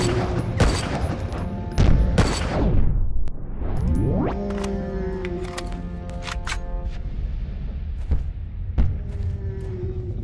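Gunfire in the video game SNIPZ, several sharp loud shots with sweeping whooshes and ringing tails over ongoing game sounds.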